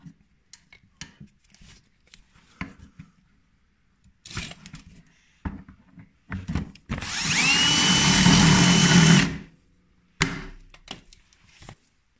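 A power drill bores out bolt holes for a front bumper on a Polaris Axys snowmobile, one sustained grinding run of about two seconds among scattered clanks and tool handling.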